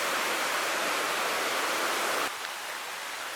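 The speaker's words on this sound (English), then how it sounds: "you can see the river right here below us on Middle Prong" River on the Middle Prong Trail rushing below a trestle bridge, a dense, even roar of flowing water that drops slightly in level partway through.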